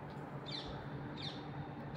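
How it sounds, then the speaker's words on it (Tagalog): Birds chirp outdoors in Beersheva, two short high tweet bursts rising over a steady faint background hum. "Kagulo yung mga ibon ah"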